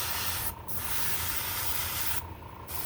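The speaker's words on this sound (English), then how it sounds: "I'm gonna spray light coat, but again, slightly heavier than I would do the Alclad coat." A steady broadband hiss of chrome spray paint running almost continuously, briefly dipping twice, with a low rumble of two fans underneath.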